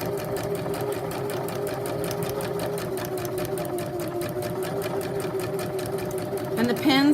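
A sewing machine runs steadily, stitching a doll dress over pins with a fast even mechanical whir and needle chatter close up, speeding up slightly at the end.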